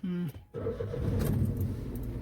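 A car engine is started while a new driver learns to drive: a starter whir gives way to a steady idling rumble that continues, with a person speaking over it.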